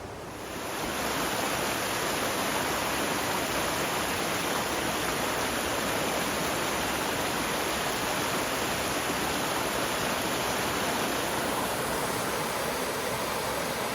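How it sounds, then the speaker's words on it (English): Rushing water of the French Broad River rapids tumbling over rocks, a dense, unbroken roar that stays loud and constant throughout, with no voices. "constant sound of the rushing water over the rocks"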